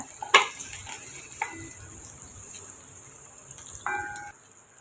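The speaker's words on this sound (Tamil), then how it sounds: "எண்ணெய் காஞ்சதுமே நமக்கு இஞ்சி பூண்டு சேர்த்துக்கலாம் சேர்த்துட்டு ஒரு மிளகாய் சேர்த்து வதக்கி எடுக்குங்க" Ginger, garlic and green chili sautéing in hot oil for a chicken dish give a soft frying sizzle with a few scrapes and clinks of stirring, heard close and fairly quiet with no talk.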